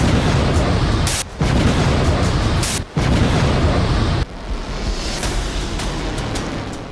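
Heavy, roaring cluster bomb blast noise fills the clip, broken by brief gaps and sharp bursts, then settles into a lower, rumbling wash, loud and harsh throughout.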